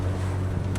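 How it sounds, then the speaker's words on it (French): Steady gusting wind buffets the microphone in a continuous low roar, loud and close, with no voices over it. "il y a des coups de vent"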